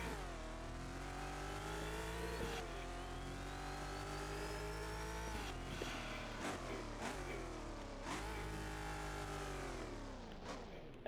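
Race cars in a Roblox driving game speed along with a steady, loud engine drone whose pitch rises and falls as they rev and shift, continuous for the whole stretch with no talking.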